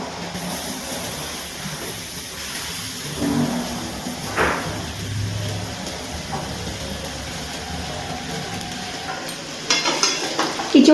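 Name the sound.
fried jackfruit added to spiced potatoes and stirred in pan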